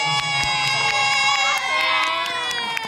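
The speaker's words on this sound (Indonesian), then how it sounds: "Tepuk tangan untuk anak Arsia" Children at an Islamic Quran-memorisation talk clap and cheer together, a bright, busy crowd of young voices with scattered sharp claps throughout.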